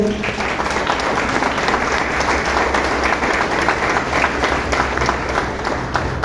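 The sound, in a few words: applause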